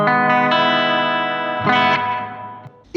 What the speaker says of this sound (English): I particularly like that North Star reverb.